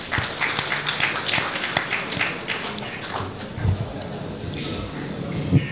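Applause from an audience at an album launch event for Minang songs, a brief burst of clapping heard alongside background voices.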